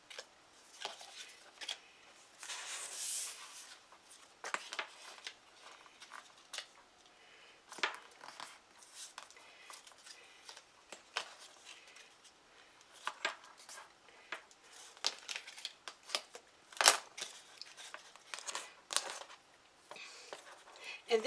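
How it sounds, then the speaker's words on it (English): Paper being snipped with scissors while making candy-holder party favors, a run of short crisp cuts and rustles scattered across the stretch, close by and fairly quiet. "I need to get a pair of scissors that actually will cut"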